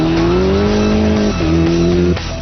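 A Mitsubishi Lancer Evolution braking hard on a race track from about 100 mph, its engine note dropping steadily with a shift partway through, loud and close.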